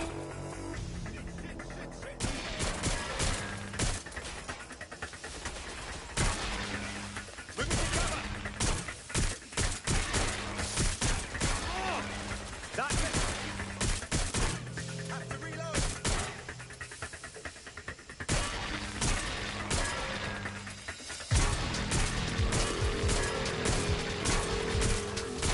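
Gunfire in Watch Dogs Legion: sustained bursts of shots and loud impacts pile up over a busy, dense mix of combat noise and music, with a voice speaking at moments.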